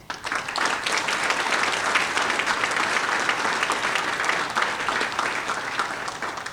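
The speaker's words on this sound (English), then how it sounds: "So if we could give a quick round of applause." Steady, dense applause from a large audience at a city State of the City address, honoring county fire crews and paramedics; the clapping holds at an even, full level throughout without speech.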